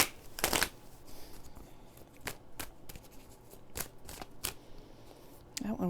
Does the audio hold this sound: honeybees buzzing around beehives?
no